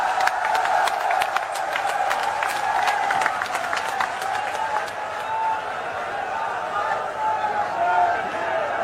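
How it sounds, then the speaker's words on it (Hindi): Applause from a crowd gathered at a Swabhiman rally in Pachpadra, Barmer district, a dense continuous clatter of many hands sustained steadily throughout, with crowd noise mixed in. "एक बार जोरदार तालियां"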